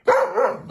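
A big dog gives a single short bark-like vocalization, close and fairly loud, with a whiny, tonal edge that trails off after about half a second.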